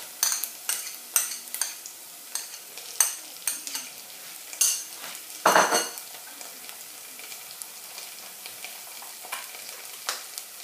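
Garlic, ginger and mustard hit a hot pan for a potato curry, with a steady sizzle broken by repeated scrapes and clinks of a utensil stirring against the pan, plus one louder burst of frying midway.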